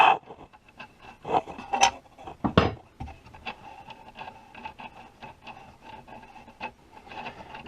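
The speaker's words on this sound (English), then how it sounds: "Simply undo the nut." A nut being undone on the arbor of an Excel job site table saw blade, heard as close scraping and rasping metal-on-metal rubs, with a few sharper knocks early on and softer fiddling scrapes after that.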